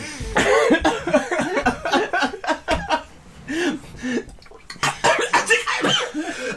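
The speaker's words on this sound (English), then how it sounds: "He's choking on the nog." A man coughs and sputters after swallowing eggnog the wrong way, wet choking coughs broken up by laughter and voiced gasps from nearby people, loud and close.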